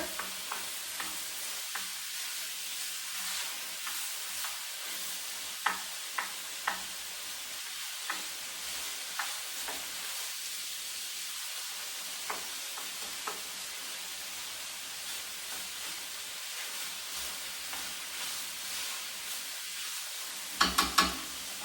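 Potatoes and ground pork stir-fried in a hot wok, a steady sizzle running throughout with frequent light clicks and scrapes of the spatula, louder clatters near the end, no voices.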